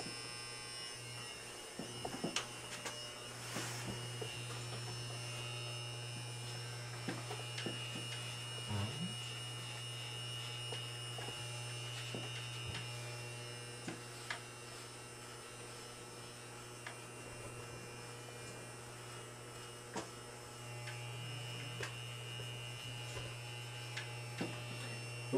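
A Wahl Designer hair clipper tapers the nape of the neck with its lever extended fully, giving a steady, close electric buzz that runs almost unbroken for the whole stretch, with small clicks and handling noises over it.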